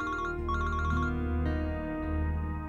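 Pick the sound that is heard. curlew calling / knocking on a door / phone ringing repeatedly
phone ringing repeatedly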